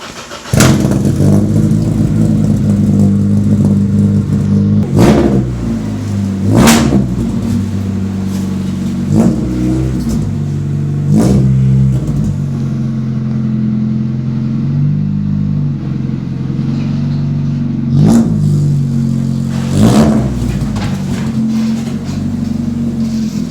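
A loud car engine idles steadily nearby, its low rumble rising in a few brief revs before settling back.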